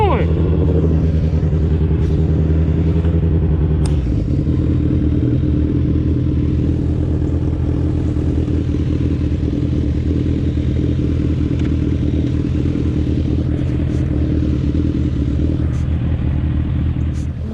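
Motorcycle riding on a road, its engine a loud continuous rumble with a brief rev early on, heard close up throughout with occasional clatter and wind.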